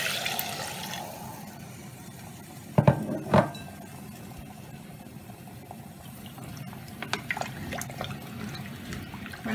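Water is poured into a pot of rice for bagara rice, a steady liquid wash with two brief clinks of glass or metal near the middle, close and alone with no talking.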